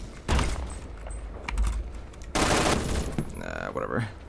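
Automatic gunfire from rifles and machine guns in the online shooter game Phantom Forces, loud dense bursts of rapid shots rattling in clusters, with a voice talking over part of it.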